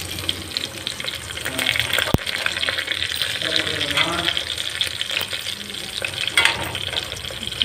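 Raw jackfruit pieces and onion fry in oil with a continuous close sizzle and hiss, mixed with scraping stir sounds and one sharp knock midway, under occasional faint talk.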